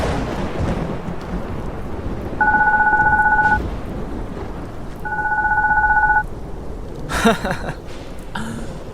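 A telephone rings twice in long even bursts over steady room noise during a drama scene about a call from home, followed by a brief thump and clatter.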